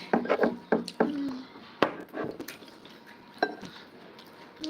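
Knife chopping onions on a wooden cutting board in a home kitchen, a quick run of sharp close knocks early on, then scattered single chops spaced through a quieter stretch.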